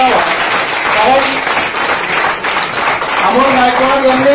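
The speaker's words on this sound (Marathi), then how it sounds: "मला वाटतं की सभागृहानं जबरदस्त टाळ्यांचा गजर करावा" Audience applause fills a hall at an award ceremony: dense, steady clapping runs loud throughout, with voices mixed in beneath it.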